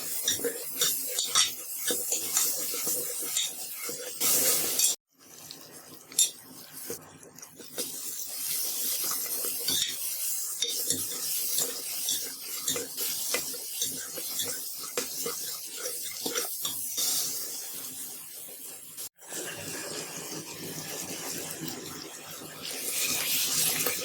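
A spatula stirs and scrapes a frying curry base of spices and onion in a pan with a steady bright sizzle, with repeated metallic scrapes and brief pauses in the frying, close and continuous.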